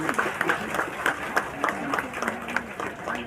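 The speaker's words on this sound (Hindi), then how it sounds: "तालियों से आप लोग स्वागत करेंगे।" A crowd at a political gathering claps to welcome a speaker, with loud rhythmic, somewhat uneven clapping under a murmur of voices.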